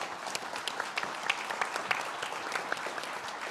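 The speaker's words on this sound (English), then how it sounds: "Let's give them another round of applause" Audience at a mayoral candidate debate giving a fairly quiet, steady round of applause, heard from a distance with no talking over it.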